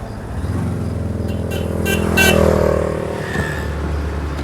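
A car drives steadily with a continuous engine drone and road rumble, swelling slightly louder midway as it revs, close and constant with no talk.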